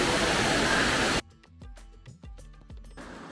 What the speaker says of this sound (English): Now we'll get to see where the water is gushing down from. I'm sure you can hear the noise.